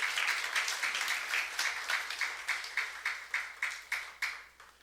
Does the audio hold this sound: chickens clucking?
no